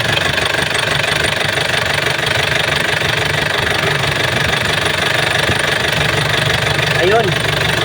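A second-hand car engine idles steadily with a continuous low rumble and faint knocking texture, heard up close and unbroken throughout, with a brief higher tone near the end.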